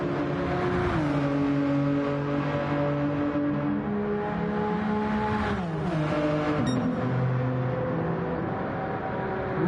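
Gran Turismo 7 GTE race car at Suzuka, its engine droning steadily through the final corner, the pitch stepping and sliding with gear changes and throttle shifts, continuous and close throughout.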